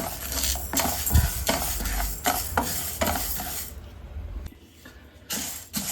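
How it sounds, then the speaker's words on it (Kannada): Horse gram dry-roasting in a pan, stirred with a utensil that makes repeated scraping and rattling strokes against the metal, close and fairly loud, then falling quieter toward the end with no voices. "ಹುರುಳಿಕಾಳನ್ನು ಸೇರಿಸ್ಕೊಂಡು ಕೆಂಪಾಗೋ ತನಕ ಫ್ರೈ ಮಾಡ್ಕೊಳ್ಳೋಣ"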